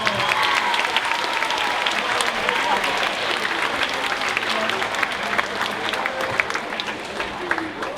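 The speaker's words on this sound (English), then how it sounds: "So please give yourselves a round of applause." Loud, sustained applause from a crowd, dense clapping throughout with a few cheers mixed in.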